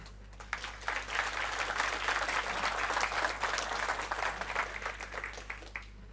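Audience applause at a business conference, rising quickly into a full, steady round of clapping over a low hum in a large hall, then tapering at the end.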